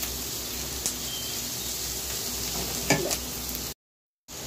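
Minced onion and garlic fry in a pan for a chicken kosha, a steady close sizzle with a few sharp crackles and light scraping, then a brief silence before the frying resumes.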